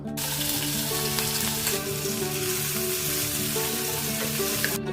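Cumin seeds with green chili and ginger paste sizzling in hot oil, a close, continuous crackling fry holding steady throughout with a low tonal hum beneath and no talking.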